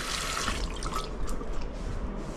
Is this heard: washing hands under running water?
yes